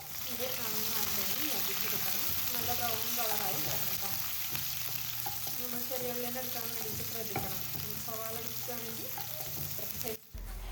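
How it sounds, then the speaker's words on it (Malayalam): Chopped shallots sizzle loudly in hot oil for a Kerala home-style lunch, a dense continuous crackle with stirring clatter, ending in a brief knock near the close. "എണ്ണയൊക്കെ നന്നായിട്ട് ചൂടായി വരുമ്പം നമ്മൾ കട്ട് ചെയ്ത് വെച്ചിട്ടുള്ള ചെറിയ ഉള്ളി ചേർത്ത് കൊടുക്കുക."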